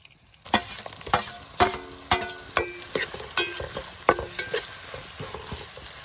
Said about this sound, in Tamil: இப்போ கையோட ரெண்டே ரெண்டு தக்காளியை மட்டும் சேர்த்துக்கலாம்